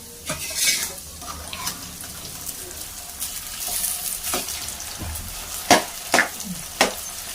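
Idli pieces go into a frying pan and are stirred, giving a low sizzle with scattered spatula scrapes and a few sharp utensil clacks against the pan near the end.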